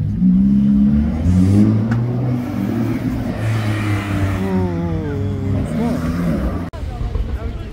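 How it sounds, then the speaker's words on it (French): A Ferrari Roma Spider gives short revs in a Cannes street, a loud close engine rising and falling in pitch, with someone talking over it. "Très joli Roma Spider qui se cache là derrière, qui fait des petits ravings d'ailleurs."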